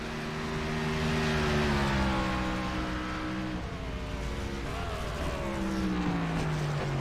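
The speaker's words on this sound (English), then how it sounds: "Hear a little bit of wheel hop there out of Trevor Robertson's car." Race cars at Watkins Glen roar past in a steady, loud engine drone, with pitch sweeps as the machines accelerate and shift, and a race car's wheel hop under power coming out of a corner.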